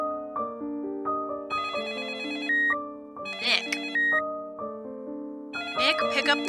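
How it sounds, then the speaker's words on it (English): A telephone ringtone rings in repeated melodic bursts of electronic tones, clear and fairly close, with brief pauses between phrases and no talking over it. "pick up the phone"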